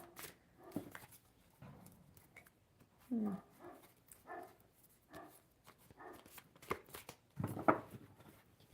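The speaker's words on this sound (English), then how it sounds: "Hear the outside noise. Got a lot of dogs in this neighborhood." Neighborhood dogs bark outdoors, several short, sharp, moderately faint barks scattered across the stretch with quiet gaps between them.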